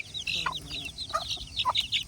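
Young Frizzle chicks and hens cluck and peep in a pet flock, a busy overlapping chatter of high chirps and soft clucks, close and steady with no talking.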